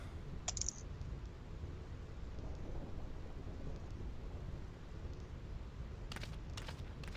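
A thunderstorm in the game Final Fantasy X, a low continuous rumble of thunder and rain under faint, sparse clicking, with a few brief crackles near the start and end.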